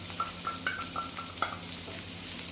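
Sliced onion sautés in a pan with cumin seeds, a soft low sizzle under a series of light scraping and tapping strokes from a stirring spoon, fairly quiet and without talking.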